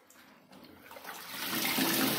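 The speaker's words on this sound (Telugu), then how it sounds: "ఇప్పుడు బట్టల్ని వాటర్ ని మళ్ళీ డ్రైన్ తీసేయండి పైప్ తీసేస్తే డ్రై అయిపోతుంది" Water drains out of a DMR 3 kg portable mini washing machine, a rushing gurgle that starts faint and swells to a steady, louder flow nearby.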